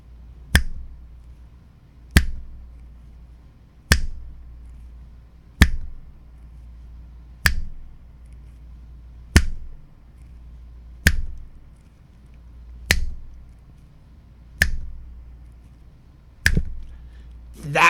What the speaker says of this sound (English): what kind of crazy guy's clicking his thumb 10 times